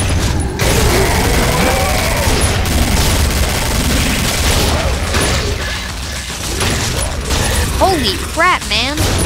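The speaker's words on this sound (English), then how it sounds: "My guns go boom, boom" Gunfire in the zombie shooter game Killing Floor, a dense, loud run of shots and booms packed together with mechanical clatter and sound effects, with voices mixed into the busy battle din.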